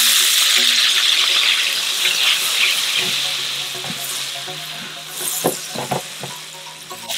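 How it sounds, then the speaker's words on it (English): White wine is poured into a hot frying pan holding fish in garlic butter with capers, bursting into a bright, hissing sizzle that gradually settles, with a few sharp crackles and clinks near the end. "I'm gonna add a little bit of white wine just to deglaze the pan."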